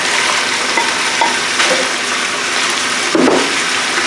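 Squash dumped into a cooking pot and frying, a steady broad sizzle and stir with a few soft thuds and clatters near the end.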